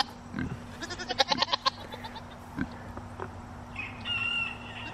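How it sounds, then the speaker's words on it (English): Farm livestock calling at night, with pigs and goats giving short grunting and bleating cries in irregular bursts, roosters and birds chirping over a steady low hum in the background. "The pigs, the goats,"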